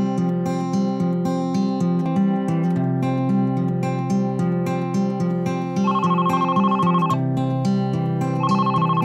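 A telephone ringing, heard as a steady tonal ringtone pattern that repeats with a brighter high tone joining in partway, loud and alone.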